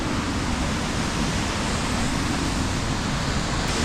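Steady broadband rush of falling water from a secret waterfall, loud and continuous with no pauses and no voices over it.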